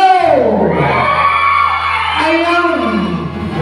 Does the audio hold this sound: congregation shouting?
yes